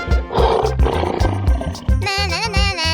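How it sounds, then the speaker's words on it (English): A lion roars in a 3D animal slide video game, a loud growling roar over a steady game music beat, followed by a wavering high animal cry near the end. "lion,"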